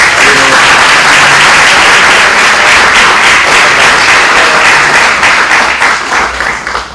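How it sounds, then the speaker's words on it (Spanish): An audience at a panel talk breaks into loud, dense applause that stays sustained and close for several seconds, then begins to thin out near the end. "les damos un aplauso a los dos"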